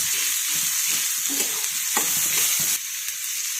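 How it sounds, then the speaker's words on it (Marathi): Chopped onion sizzles hard in a pan over full gas while a spoon stirs it in a quick, steady rhythm, giving close scraping and clinking over a constant loud hiss that eases slightly near the end. "कांदा मी फुल गॅसवरती परतून घेणार आहे"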